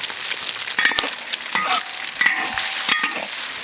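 Sliced pork stir-fried in hot oil with ginger in a wok, giving a loud, steady sizzle broken by several scraping stirs of the spatula, with no talking.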